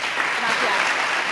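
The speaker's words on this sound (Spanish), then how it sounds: "Bueno, un fuerte aplauso." Brief, dense clapping from a seminar audience at a web analytics session, loud and continuous for a moment with a voice faintly under it.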